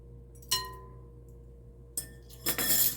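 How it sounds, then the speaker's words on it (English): A new bottle of flavouring for Christmas eggnog custard pie is opened: a bright glassy clink, a short pause, then a quieter tick and a louder rattling clatter of glass and cap close by, with no talking. "since this is a new bottle, I gotta open it"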